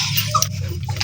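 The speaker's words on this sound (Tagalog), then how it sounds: "Salubungan yung mga aso." Several dogs whimper and yip excitedly as they greet someone arriving at a hut, in a short, close burst.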